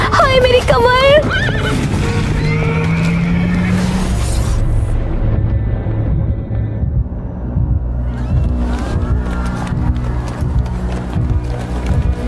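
A horse gives a loud, close whinny with rising and falling pitch at the opening, followed by rumbling, clattering crash sounds and hoof-like knocks while people's voices cut in.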